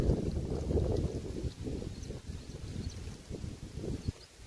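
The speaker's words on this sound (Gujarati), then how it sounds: "પવન એ મસ્ત આવે છે." Gusty wind buffeting the microphone in low, uneven rumbles that rise and fall, fairly faint overall, on a rooftop terrace.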